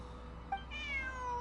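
A single short cat meow from Pierre's cat Bonnie in the video game Genshin Impact, soft and rising then falling in pitch, heard alone over a faint game ambience.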